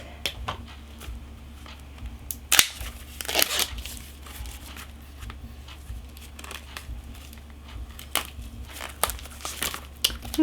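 Plastic wrapping being torn and crinkled off a StarCraft II: Legacy of the Void collector's edition box, heard as a long run of close, irregular crinkles and sharp rips over a low steady hum.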